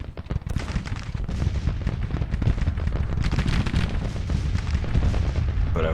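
Dense, continuous artillery fire from a Civil War battery in Grand Tactician: The Civil War, with booming cannon shots and crackling gunfire overlapping steadily throughout, loud and close with no pauses or talk.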